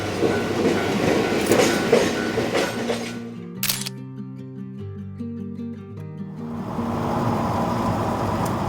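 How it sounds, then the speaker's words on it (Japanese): A train rolls past in Toyama's mountain country, starting as broad rumbling rail noise, then giving way to sustained tonal hums and whines at mid-pass before the wash of wheels and wind swells back, loud and close, with no talking. "なんか電車が通り過ぎるらしい。"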